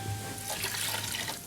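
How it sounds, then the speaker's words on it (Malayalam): Glass of water being poured into a cooking pot in a village kitchen while rasam is prepared, a short continuous splashing gush at close range with no talking. "ഒരു ഗ്ലാസ് കൂടെ ഒഴിച്ചു"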